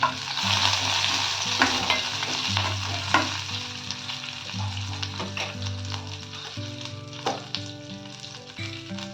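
Green chillies and curry leaves fry in hot oil for a South Indian tempering, a loud close crackling sizzle with popping bursts and occasional stirring, steady throughout and with no talking.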